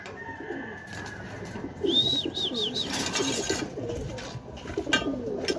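Racing pigeons coo softly amid a bed of bird chatter at a loft during a derby race, with a few high chirps and rustling noise in the background.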